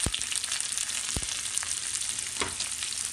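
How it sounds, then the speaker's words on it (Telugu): Onions frying in a pan for a Telangana-style mutton boti curry hiss in a constant close sizzle, broken by a few low knocks of stirring. "ఉల్లిపాయలు మొత్తం బాగా ఉడకాలి, బ్రౌన్ కలర్లో వచ్చేంత వరకు."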